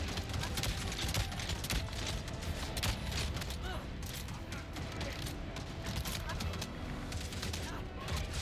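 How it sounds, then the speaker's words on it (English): Gunfire and bursts of automatic shots crackle through the action game Avatar: Frontiers of Pandora, dense and continuous under layered combat noise, fairly faint overall, with talk in the background. "Who's shooting at me now?"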